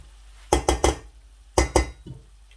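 A spoon clinks against a cooking pot while food is mixed, giving two quick clusters of three and two bright metallic knocks, close and alone.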